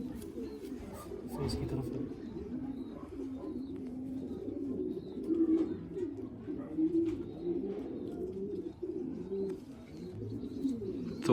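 Racing pigeons in a loft coo softly in a low repeated murmur, with occasional chirps, under nearby male speech throughout.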